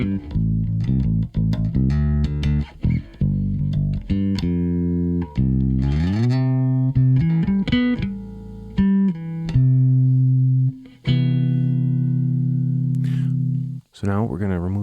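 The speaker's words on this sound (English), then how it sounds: "just to see what this amplifier sounds like, let's just use just a 57 and the line out of the back of the amp" Electric bass played through a bass amplifier, captured with a Shure SM57 microphone and the amp's DI line out, with distortion; loud, sustained notes and rapid plucked runs continue throughout, with a brief gap near the end.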